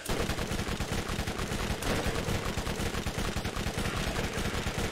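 Rapid automatic gunfire in the Borderlands video game rattles continuously in dense, loud bursts for several seconds, layered with overlapping shots and no speech.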